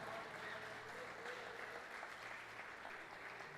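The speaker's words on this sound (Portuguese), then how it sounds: "Aplauda o Senhor, esse milagre vai chegar." A church congregation applauds during a sermon, producing a soft, continuous wash of clapping in a reverberant hall with a steady low hum underneath and no clear speech.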